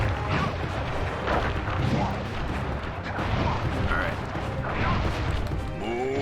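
Heavy booming impacts from a chop attack in a Sly Cooper game, repeated thuds and crashes rolling under a dense layer of game noise, with someone talking over them.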